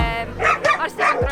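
Dogs barking at a dog competition, several quick yapping barks and yips in a row, close and fairly loud against a busy background of many dogs.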